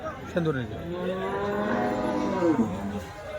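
Cattle moo loudly and continuously at a local live cow market in Varkhedi, Maharashtra, with long drawn-out calls overlapping close by against steady crowd background noise.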